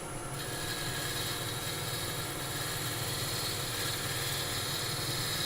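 Wood lathe turning as a tool peels shavings from the spinning workpiece, a steady whirring hum with continuous faint scraping and cutting texture, even and sustained.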